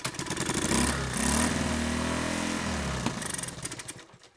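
A Honda ATC 110 three-wheeler pulled from a barn, its engine given gas while trying to start, a rough, labored churning that swells and fades in a couple of bursts before dropping away.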